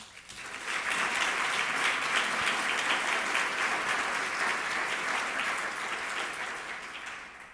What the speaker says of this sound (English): I wish you'd give them a hand